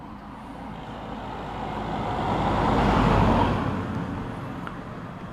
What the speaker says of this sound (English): Excuse the cars going past in the background.